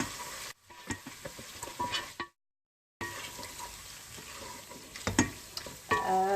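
Tomato paste frying with garlic in a pan on a stovetop, sizzling softly as a utensil stirs and scrapes, broken by a brief silence partway through; no talk.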